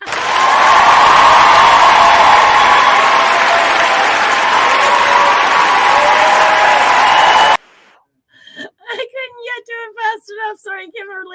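A recorded applause sound effect: dense, steady crowd clapping that fills the first seven seconds and then cuts off abruptly, followed by a person speaking.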